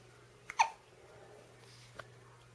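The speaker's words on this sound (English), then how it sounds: "Fighting off some hiccups" A person has the hiccups: one sharp, close hiccup with a short breathy tail, then a fainter second one a moment later, over a quiet room hum.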